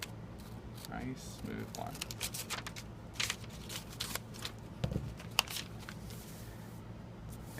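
Scissors snip through a paper costume pattern block in a few brief crisp cuts and paper rustles, close by, under a woman's speech.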